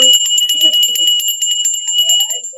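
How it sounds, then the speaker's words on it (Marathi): A small hanging brass bell rings rapidly and repeatedly, bright, clear chimes jingling close by, while a faint voice murmurs briefly underneath. "हँगिंग बेल आहे, दरवाजाला, देवाऱ्याकडे शोपीस म्हणून."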